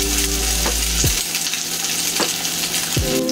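Crab cakes made with oats fry in a pan over lowered flame, a steady loud sizzle with a few soft scrapes and clinks of a spatula, no talking.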